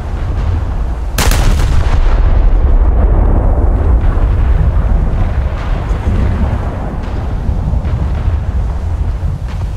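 A massive battleship gun salvo in the naval game War Thunder erupts in a single loud, sharp blast, followed by a long, deep rumbling roar that slowly fades.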